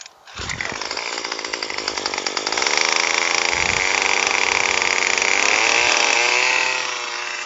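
A small gas rototiller engine starting up for spring garden bed prep, quickly revving into a loud, buzzing, rattly run close by, then easing toward a steadier idle.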